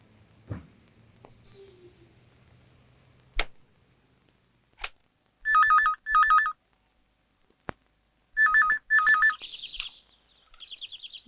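A telephone ringtone rings in a home scene in two double bursts of electronic trilling tones, each burst clear and fairly loud, separated by quiet pauses with a few sharp clicks and a brief chirp near the end.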